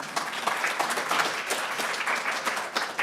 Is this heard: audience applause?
yes